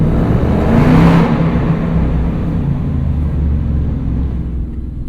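A 2025 Ford Mustang Dark Horse with an H-pipe exhaust pulls hard in first gear, its V8 roaring loud and close, swelling to a peak before the note eases off into a steady lower drone.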